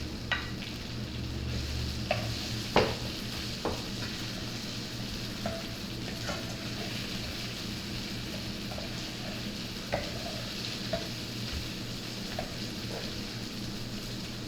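Sliced onions frying in a pan for sweet and spicy chilli shrimp, a quiet continuous sizzle with a few soft stirring knocks and scrapes spread through it.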